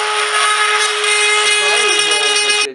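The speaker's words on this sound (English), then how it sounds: "I'm using a cordless cutout tool, and you could use maybe even a fine tool or anything to cut out this the hole" Cordless cutout tool whining steadily as it cuts a hole for a winch fairlead on a 2016 Jeep Cherokee Trailhawk, loud and close, a continuous high-pitched motor drone that holds for about two and a half seconds before stopping abruptly.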